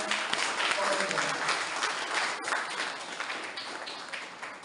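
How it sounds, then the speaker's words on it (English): Audience at an inter-school English elocution competition claps steadily for the participants, a dense, loud wash of applause lasting throughout. "I would really request you all to clap for all the participants for them."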